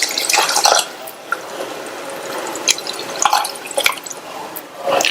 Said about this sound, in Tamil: இதுல 200 ml டம்ளர்ல 2 டம்ளர் தண்ணி சேர்க்கிறேன்.